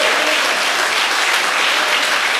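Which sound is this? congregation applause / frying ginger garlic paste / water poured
congregation applause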